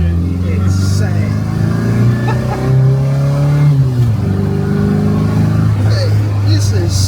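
Gen 5 Mini with straight-cut gears accelerating up through the revs, a loud, steady drivetrain whine and engine note rising and dropping between shifts, with people talking excitedly over it.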